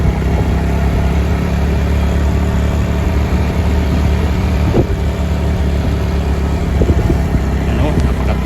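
A Honda XRM110 motorcycle, started without its key, runs on a test drive with a loud, steady, close engine drone throughout and only slight rises in revs along the way.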